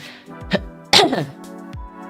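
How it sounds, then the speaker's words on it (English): A single person coughs once sharply, then a stronger burst follows, close to the microphone, with a brief voiced tail and quiet room tone between. "Sorry, I coughed."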